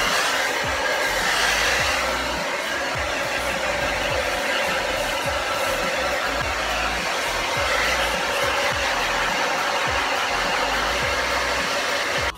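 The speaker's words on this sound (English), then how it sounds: "I'm just going to blast it with a hairdryer" A hair dryer blows in a loud, steady whoosh close by, running without pause for the whole stretch.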